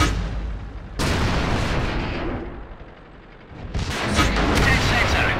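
Tank cannon fire in the World of Tanks video game: two loud booming shots a few seconds apart, each followed by a long rumbling decay.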